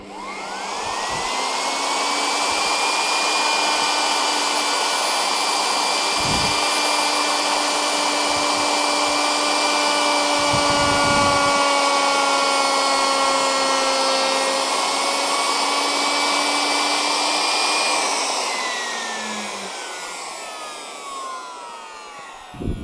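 Wood router turned down to low speed and pushed into a wooden workpiece with a hardwood knot, a loud sustained motor whine holding steady for nearly twenty seconds, then dropping in pitch and winding down at the end.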